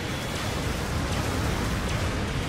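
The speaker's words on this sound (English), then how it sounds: "Oh, but here comes the rain." Steady heavy rain pours in the Gundam Battle Operation 2 video game, a dense, constant hiss with faint low rumbles, no voices.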